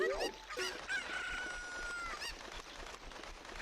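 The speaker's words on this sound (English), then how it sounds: "Okay, let's go, chicken." A chicken in the video game Ocarina of Time crows and clucks, a short burst of clucks leading into a drawn-out cock-a-doodle-doo and a few more clucks, fairly close over quiet game background.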